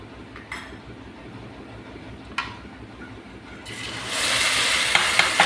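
Ground garlic-onion paste hits hot oil in a tempering for a boiled potato curry, and a bright sizzle swells up about two-thirds of the way through after quieter kitchen sounds.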